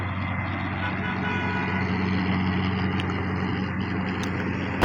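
Steady traffic on a busy main road running from Sahiwal toward Faisalabad, with trucks passing: a continuous low engine rumble and road hiss, moderately loud, with faint high beeps near the end.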